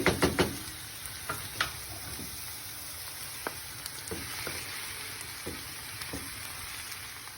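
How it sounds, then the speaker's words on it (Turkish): Minced meat sizzles and fries in a pan with onions and green peppers, a steady hiss with sharp spatters and occasional knocks as it is stirred, close and alone. "Etler güzel bir kavruldu soğan ve biberle."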